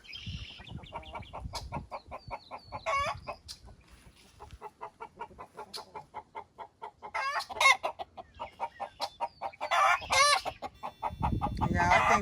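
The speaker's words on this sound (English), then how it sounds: "Then that's my rooster that we hatched." Backyard coop of laying hens and a young hatched rooster: steady clucking and squawking throughout, with louder bursts of cackling and calls toward the end, close and alone without talk.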